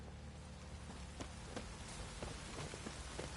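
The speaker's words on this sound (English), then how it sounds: "Proper downpour this is." Heavy rain pours down steadily in The Witcher 3, a dense, constant hiss of a downpour with scattered sharper drops and splashes throughout, and no talking.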